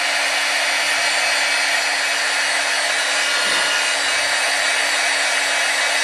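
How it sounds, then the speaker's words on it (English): A heat tool blows steadily on embossing powder over cardstock, a continuous close, loud fan-like whoosh with an even tone throughout, no voices. "just take your heat tool to it, just very quickly"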